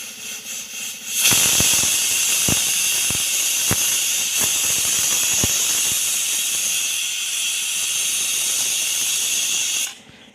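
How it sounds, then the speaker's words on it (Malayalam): A pressure cooker cooking beef lets out a loud, sustained steam hiss for several seconds, with scattered sharp clicks, before cutting off abruptly. "നമുക്ക് കുക്കറിലിട്ട് വേവിച്ചെടുക്കാം"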